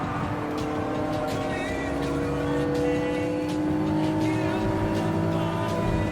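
A twin-turbo Nissan Fairlady Z 300ZX races in the game Gran Turismo Sport, its engine holding a steady, droning high-revving whine with faint tyre and gear sounds throughout.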